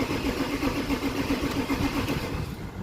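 A Ford Ranger 3.2 in limp mode after a battery reset is cranked and starts, giving a steady, continuous engine rumble close by, with no talk over it.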